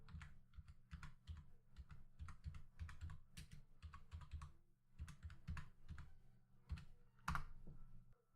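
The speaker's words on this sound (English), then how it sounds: "Now type configure terminal" A command is typed on a computer keyboard in quick bursts of close, crisp key clicks with brief pauses between groups, quiet and without talk.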